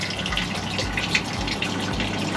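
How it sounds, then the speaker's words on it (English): Slow trickle of water from an artesian well in the Ashland, Wisconsin area, a steady close splashing flow with no voices over it. "Definitely one of the slowest flowing artesian wells I've ever seen."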